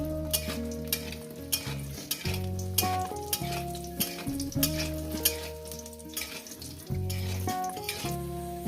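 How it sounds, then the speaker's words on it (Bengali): Spiced lentil dumplings (bori) fry in oil in a pan, giving a continuous sizzle with scattered stirring clinks, partly masked by tuneful background music throughout. "আমি বড়িগুলো আগে ভেজে নেব। এটা হচ্ছে মশলা দেওয়া বড়ি।"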